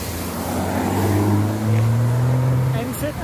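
A BMW M440i passes by in city traffic, its engine a loud, rising droning tone that swells and fades over a few seconds while people talk nearby.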